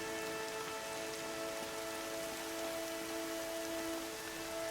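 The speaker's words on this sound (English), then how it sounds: "This one's coming down hard, huh? The rain?" Heavy rain pours steadily in Horizon Zero Dawn, a dense continuous hiss of drops striking surfaces that holds at an even level throughout with no voices.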